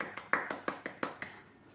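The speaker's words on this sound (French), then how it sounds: "Je m'applaudis." One person claps for himself, a short run of about eight sharp, evenly spaced claps, close and fairly loud, fading to quiet at the end with no voices.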